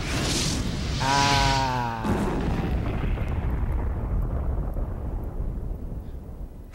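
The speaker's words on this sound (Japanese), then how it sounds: "てかこの列車って爆発するんやない？爆発する、爆発する" A train blowing up in the Resident Evil 2 video game: a deep booming blast with a roaring burst that slowly decays into a long rumbling tail, loud and alone apart from a brief vocal exclamation.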